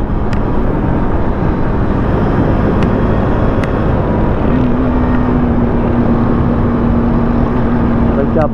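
A 250 cc Husqvarna motorcycle in a street race gives a loud, continuous engine roar that holds steady, with a rising whine coming in partway through.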